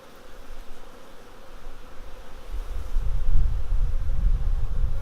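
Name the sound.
honey bees buzzing around an open hive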